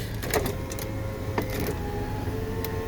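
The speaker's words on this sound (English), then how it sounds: "All the windows work." Power windows on a 2000 Toyota Tundra pickup run with a steady electric motor whir and a few light mechanical clicks, close by, with no talking.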